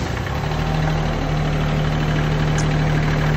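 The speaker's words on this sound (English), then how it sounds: "we're gonna have Antonio go ahead and fire the tractor back up." KIOTI SL2420 compact tractor engine idling steadily with a low, even drone and a constant hum, close and alone with no talk.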